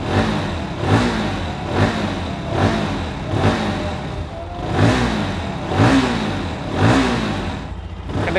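A car engine with an 11:1 compression ratio revved repeatedly, rising and falling in roughly one-second swells, loud and close, quick to climb in rpm, with no speech.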